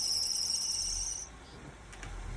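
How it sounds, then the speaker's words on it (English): A shrill, steady high-pitched engine belt squeal whines over a low car engine rumble for about a second, then cuts off, leaving the jump-started engine running quietly. "You hear the belt squealing on it."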